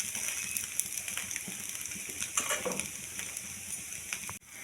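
Muri chakuli pitha, a puffed-rice pancake, frying in oil in a pan, giving a steady close hiss and sizzle with faint clinks of a utensil and no voices.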